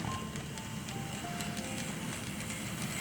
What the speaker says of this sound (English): I got a little train coming here, a little passenger train coming